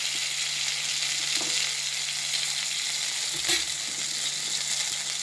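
Ginger paste sizzles in a pan of oil with tomato, garlic and onion, giving a constant, moderate frying hiss with a brief stir or clink near the middle.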